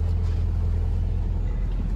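A sailboat's engine drones loud and steady while motoring upwind at sea, a constant low rumble with an even throb and no voices.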